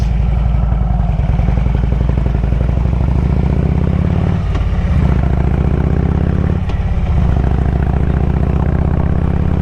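Harley-Davidson motorcycle cruising on a night ride, its engine a loud, steady, deep rumble heard close from the rider's position, dipping briefly twice as if shifting gears.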